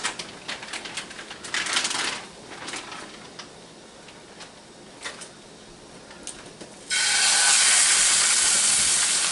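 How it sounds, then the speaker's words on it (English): Roast meat browning in a hot pan for supper, beginning with faint crackles and pops, then rising at the end into a loud, steady, close sizzle with no talk. "we are going to brown our roast"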